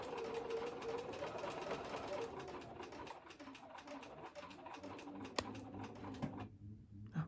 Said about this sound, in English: Easton sewed all the way down the long side, and now he's going to finish sewing across the short side